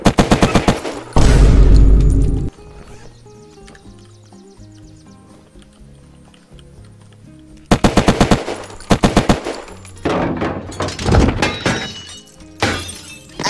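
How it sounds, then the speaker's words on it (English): Shotgun blasts and gunfire in the survival game Unturned during a raid: a dense burst of loud, rapid shots at the start, a quieter stretch, then several more sharp, heavy volleys near and loud. "Oh shit, they had a shotgun though."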